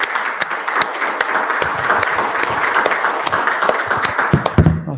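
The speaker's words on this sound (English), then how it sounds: "I was clapping for Vance" An audience applauds, steady dense clapping throughout with a few sharper individual claps standing out near the end.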